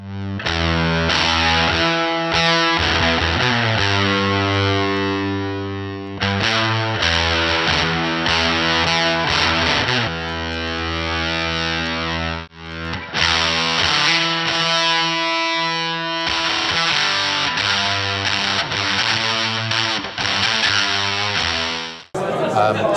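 Electric guitar played through a Fredric Effects silicon distortion pedal in a crunchy, Rat-like voicing, with loud, close chords and sustained riffs in several bursts separated by brief pauses.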